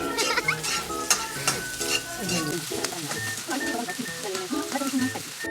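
Onion and garlic frying in hot oil, a dense close sizzle with constant stirring clatter and scraping, busy and fairly loud; a faint voice and some tonal background sounds sit underneath.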